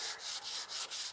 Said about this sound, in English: I got so much of a mess here from this vibrating sander.